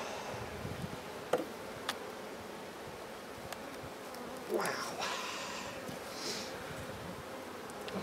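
Honey bees buzz around a neglected hive while it is being transferred from a nuc into a ten-frame box, a steady moderate drone with a few sharper passes from bees flying close to the microphone.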